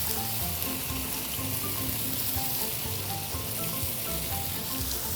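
Chicken stir-frying in a pan as sauce goes in, a loud, continuous close sizzle with crackling and faint stirring scrapes throughout.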